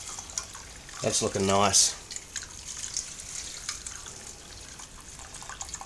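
Wort from the mash on a cream ale brew day trickles and drips into a jug, a faint, close stream with a short louder pour in the middle while someone speaks over it.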